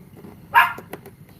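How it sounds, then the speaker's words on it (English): A dog barks from a distance, a single muffled yelp followed by a couple of faint, softer barks over quiet background. "It's the other dog up the other end."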